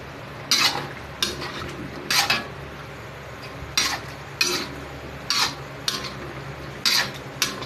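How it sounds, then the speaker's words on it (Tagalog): Potatoes and carrots being added to a pot of pork menudo: repeated sharp clinks and scrapes of a utensil against the pot in a loose rhythm, about a dozen distinct hits over a low background hum. "lagay na natin yung potatoes at saka carrots"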